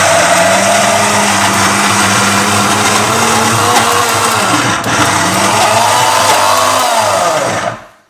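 Electric grinder whirring steadily as it blends dried red chillies and chana dal for masi vada, a loud continuous motor drone that wavers in pitch, then cuts off at the end.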